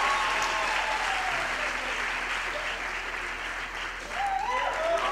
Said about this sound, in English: we please have another round of applause for the choir?